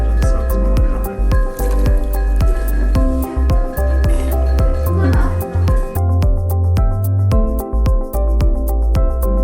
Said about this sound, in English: You could use the sponge to soak some water in there.